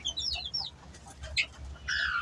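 A hen kept with her chicks in winter clucks softly among high, bright peeping from the chicks, in short scattered bursts, close and fairly quiet, with a longer run of chirps at the end.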